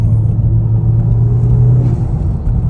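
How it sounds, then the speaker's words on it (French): A loud turbocharged Honda Civic Type R (FK2) engine drones with a steady low rumble and a faint breathy turbo whoosh layered on top, sustained throughout. "Ça fait plaisir d'entendre le turbo."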